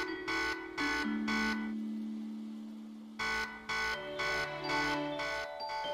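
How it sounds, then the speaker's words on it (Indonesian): An electronic alarm signal beeps in repeated bursts: three tone pulses, a pause with a sustained lower tone, then a second run of pulses, clear and close with no talking. "Kalian mendapatkan alarm juga kan?"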